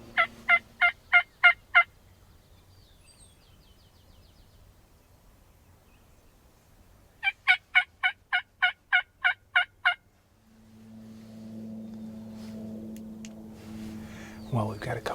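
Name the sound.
wild turkeys gobbling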